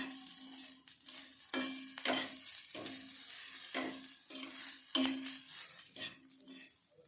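Spices with curry leaves sizzle in a hot pan while a utensil stirs and scrapes at irregular intervals, the frying hiss continuous and close.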